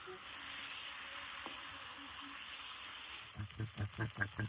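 Large river tengra fish frying in a pan, a steady soft sizzle with oily hiss, then a run of louder rhythmic spattering pops and stirring clatter near the end.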